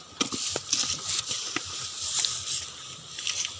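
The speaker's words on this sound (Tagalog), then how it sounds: "Naabutan na po kami ng ulan." Rain pattering steadily outdoors, dense fine hiss with scattered drops tapping nearby, continuous and moderately loud with no voices.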